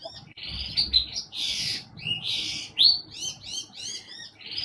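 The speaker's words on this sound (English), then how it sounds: "My bird usually pipes up when there's like something that you need to pay attention to" A pet bird chirps close by in a quiet room, a run of quick bright tweets and short rising calls, repeated irregularly with brief pauses, alone without talk.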